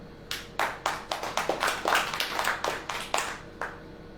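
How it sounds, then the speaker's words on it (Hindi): An audience claps together at a Hindi church sermon, a steady run of sharp, fairly close hand claps with an uneven rhythm, with no talk over it. "ताली बजाएं।"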